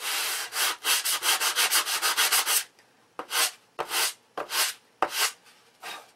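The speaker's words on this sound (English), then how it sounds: "a little spot sanding with the 320 right here." Spot sanding the leading edge of a Tom Morris Regular Millennium wing with 320-grit sandpaper: a quick run of about ten close, rhythmic rubbing strokes, then a pause and four slower, separate strokes, with no talk.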